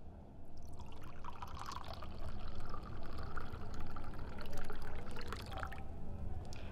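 Water poured into a glass for a guest in a restaurant, a steady close trickle and splash running for several seconds amid soft room murmur.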